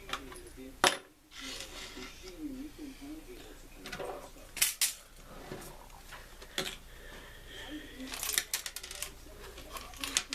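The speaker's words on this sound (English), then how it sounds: "sweep up all the screws" Loose screws from a dismantled Compaq 2100 laptop are swept together. They give off scattered metallic clicks, rattles and jingles, close and irregular, with bursts of small clinking over a low background.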